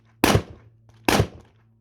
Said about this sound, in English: here's me shooting the SKS.